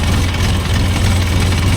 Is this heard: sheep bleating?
no